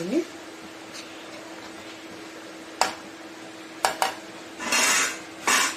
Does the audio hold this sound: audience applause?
no